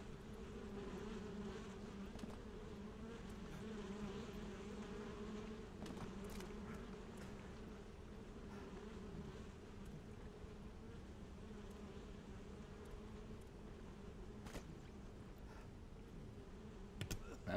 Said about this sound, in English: the only wings you'll ever see will be of the flies buzzing over your rotting corpse